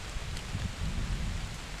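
Steady rain falls in winter woods as a dense, even hiss with soft low patter throughout, with no other sound standing out.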